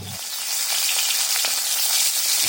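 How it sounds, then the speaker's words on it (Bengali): Fish sizzles and crackles steadily as it fries in a pan, a close and continuous bright frying noise with a few light clinks. "আর মিমের আম্মু মাছগুলো ভেজে নিচ্ছে।"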